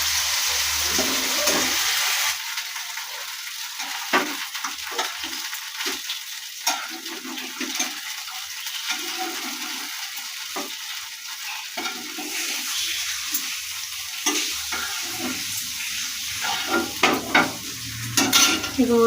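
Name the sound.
frying pumpkin and bitter gourd slices in oil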